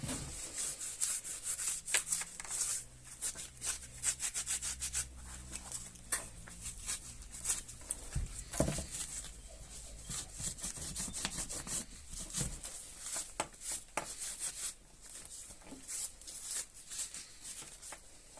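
A cloth is rubbed steadily over a fog light being restored for a BMW E34; close, continuous scrubbing and swishing strokes with a dense, even texture and no talking.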